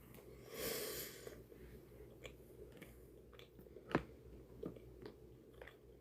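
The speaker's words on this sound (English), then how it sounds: "I'm sorry, I'm just munching out." A person chews and munches a slightly burnt lunch up close, with soft wet mouth sounds and occasional sharper crunchy bites, including one distinct louder bite, in a quiet room with no talking.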